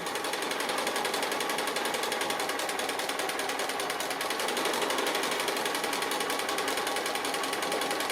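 A sewing machine stitches appliqué around a pot-and-handle design in a fast, even needle rhythm that runs unbroken and close throughout, with no talking.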